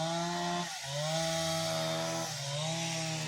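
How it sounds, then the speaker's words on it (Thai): A motorized saw drones loudly and continuously through wood, its engine pitch dipping briefly twice as it bites into the cut. "โอ้พี่น้องคนเลื่อยไม้"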